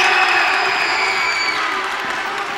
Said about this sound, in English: He's getting the biggest applause of all.